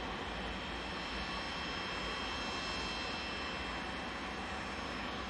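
Pilatus PC-24 business jet of Silver Aviation departing Manchester Airport, a steady, broad engine roar holding loud and unbroken throughout with no voices.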